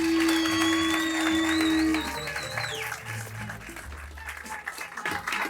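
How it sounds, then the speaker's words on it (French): A comedy show audience breaks into applause and cheering for comedian Lotfi Abdelli, a broad crowd sound that builds and holds, with music and tones running underneath. "Merci de commencer à applaudir, de donner de l'amour à Lotfi Abdelli."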